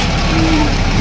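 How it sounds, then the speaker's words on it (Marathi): Road vehicles pull away at a Renuka Devi yatra, a close, loud low engine rumble with a rising drone that continues steadily over the short moment. "हे काय जायला लागलेत बघा गाड्या"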